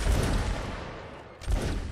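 Massed musket volley fire in a Mount and Blade Warband Napoleonic Wars line battle, a dense rolling crackle of many shots that fades briefly and then swells into a second loud burst.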